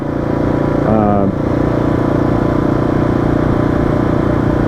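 A second-generation Kawasaki KLR650 motorcycle engine runs at a steady, loud, close hum, with a brief rising rev near the start.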